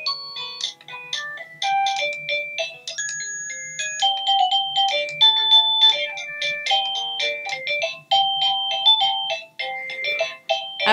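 An Avantek DT52 wireless doorbell chime plays a bright electronic melody of clear, stepping tones, loud and close, with no voices over it.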